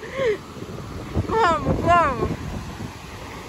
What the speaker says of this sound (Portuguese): desculpe o vento